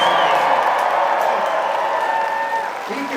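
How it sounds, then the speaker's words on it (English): A crowd at a political rally applauds and cheers, a dense wash of clapping and voices that stays loud and steady before tapering off at the end. "Can we give him another round of applause?"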